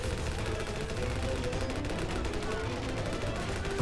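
Dense, continuous gunfire and distant artillery booms on a WW1 trench battlefield in Ravenfield, a constant loud rumbling barrage of overlapping shots with no pauses.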